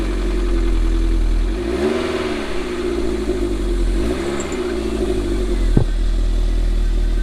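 An MG TF VVC car engine runs close by in a steady, loud idle, rising and falling gently with slight revs, plus a sharp click near the end.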